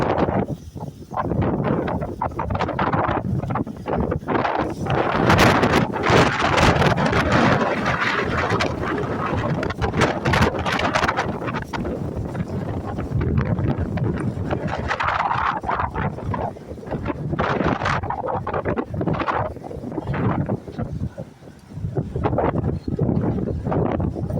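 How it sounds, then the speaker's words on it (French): Strong wind blowing outdoors in Senegal, a continuous loud rumbling buffet against the microphone lasting throughout with gusty surges and no talk. "Il y a un peu du vent, mais"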